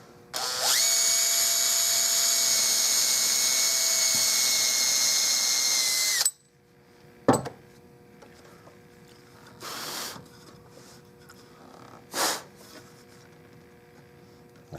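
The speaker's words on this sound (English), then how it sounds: "drill that second hole." Power drill boring a hole into a wooden Victorian bed rail, a loud steady whine lasting about six seconds before stopping, followed by a few short knocks and rustles of handling in a quiet workshop.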